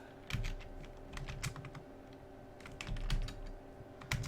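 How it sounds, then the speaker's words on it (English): Rapid typing on a computer keyboard, irregular bursts of close clicking keystrokes with short pauses, quiet with no voices. "So let's type this out."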